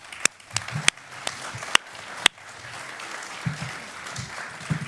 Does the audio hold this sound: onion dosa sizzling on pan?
no